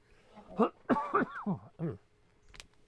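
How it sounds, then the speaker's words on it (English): A person clears their throat in a few short, voiced bursts, close and fairly loud, with a brief sharp noise near the end. "I'm going to clear my throat one more time"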